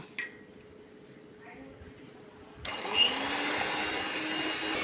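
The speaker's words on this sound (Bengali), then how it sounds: "একটা ইলেকট্রিক বিটারের সাহায্যে ফোমটা করে নিচ্ছি" An electric beater whipping egg whites into foam starts up partway through with a steady loud whirring drone, after a quieter stretch with faint handling sounds.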